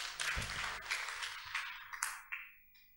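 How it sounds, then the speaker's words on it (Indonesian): Audience applause at an evening gathering of civic leaders in Tasikmalaya, a dense burst of clapping that thins out and fades over a few seconds. "Tepuk tangan."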